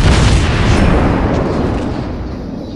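A heavy salvo from a warship's main cannons in a naval combat video game makes a loud, close, broadband blast. The low rumble of the blast decays gradually across nearly three seconds, and no one speaks.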